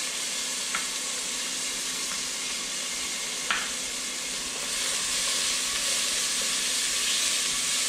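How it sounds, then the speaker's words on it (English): Garlic and jalapeños fry in a pot with a steady, soft sizzle and hiss, punctuated by a couple of faint clicks, the crackle swelling a little louder toward the end. "we're going to add our garlic and our jalapeños"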